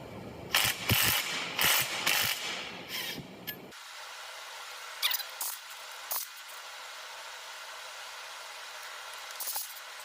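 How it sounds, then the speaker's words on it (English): Metallic ratcheting and clanking of tools at work on a Case 310 dozer engine as the flywheel is removed, with a few loud close bursts at first, then sparse knocks and clicks against a quiet background. "We're going to drop the flywheel now."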